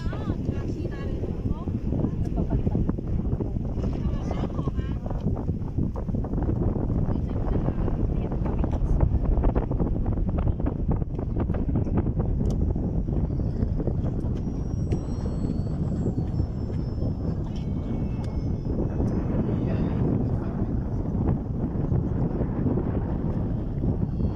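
Steady, strong wind rumbling and buffeting the microphone continuously at the Kowloon Peak mountain viewpoint, a low roar with no clear pauses.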